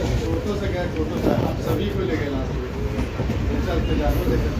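A passenger train running on rails between Asansol and Patna, heard from inside as a steady broadband rumble with faint rhythmic clatter throughout, and voices murmuring in the background.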